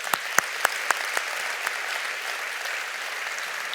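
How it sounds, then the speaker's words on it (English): At a conference gathering, an audience applauds two honorees, a few sharp close claps at first quickly blending into a steady roomful of clapping that carries on evenly. "let's give him and Mark Watts a big round of applause"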